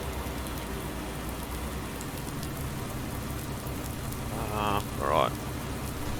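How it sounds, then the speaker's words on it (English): Rain falling on farmland in Farming Simulator 19, a steady close hiss throughout, with a voice speaking briefly near the end. "Because of all this rain, it's all getting washed away."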